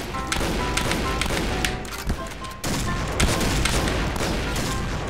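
Rapid gunfire in the online shooter Point Blank, with loud, continuous bursts of automatic shots and thuds filling the clip, briefly dipping before resuming at full intensity.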